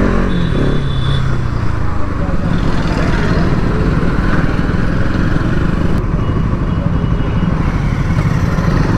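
A Bajaj Pulsar NS200 BS7 motorcycle rides steadily along a highway, its engine drone loud and continuous with wind rush throughout, and no pauses or clear gear changes.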